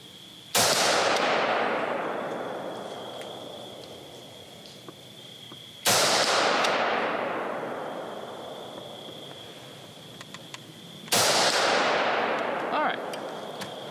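Three sharp Smith & Wesson AR-15 rifle shots spaced about five seconds apart, each a loud crack with a long decaying ring that fits rounds hitting a steel target, with a faint steady tone underneath.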